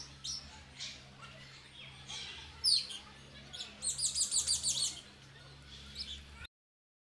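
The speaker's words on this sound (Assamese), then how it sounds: "ধুনীয়া ধুনীয়া চৰাই চাওক।" Small birds at Bangalore zoo chirp in short, thin tweets over a low outdoor hum, first as scattered single calls and then as a quick run of about eight rapid, evenly spaced chirps; faint and somewhat distant.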